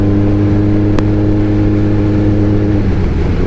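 Motorcycle engine droning steadily in a low gear at night, a continuous close, loud hum with stable low harmonics and no talk.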